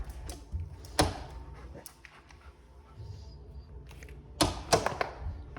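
A door opened during a dog training session, with a sharp creaking, clicking latch and mechanism sound near the start and a louder clatter near the end, close by with quiet pauses between.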